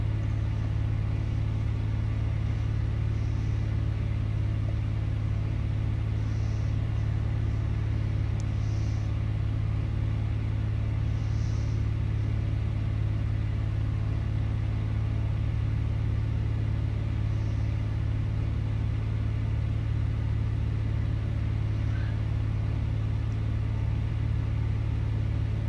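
A Cessna 206 piston engine drones steadily in a flight simulator, a constant loud low hum and rumble held without change and with no voices.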